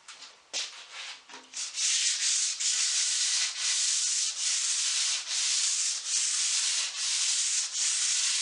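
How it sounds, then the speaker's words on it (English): Steady rhythmic hand sanding of a walnut tabletop with 320 grit paper, a bright scratchy rasp in even back-and-forth strokes, close and loud after a few hesitant starts. "what I'm going to do is light sand it with some 320 gold"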